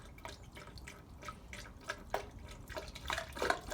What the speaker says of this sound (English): so we're gonna fill it up with radiator fluid, and then we're finally gonna get this started up, and no leaks.